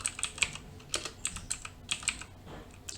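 A computer keyboard is typed on up close to enter a disk partitioning command, giving a quick irregular series of light, crisp key clicks at low level with no voice.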